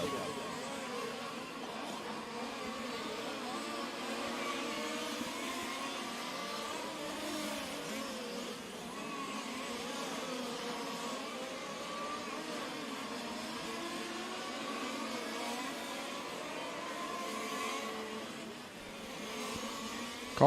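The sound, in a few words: fifth scale on-road RC race cars racing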